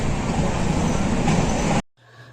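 A train at Rupnagar railway station gives a loud, broad, continuous rumble and roar close by, which cuts off abruptly near the end and leaves faint background sound.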